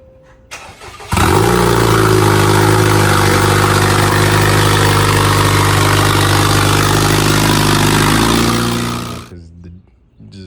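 Acura TLX fitted with an aftermarket turbo and no downpipe cranks over and catches into a loud, raw roaring idle that holds steady for several seconds before cutting off abruptly.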